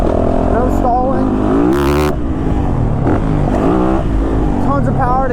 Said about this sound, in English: Look at that, that was third gear, so slow. Just lugging it.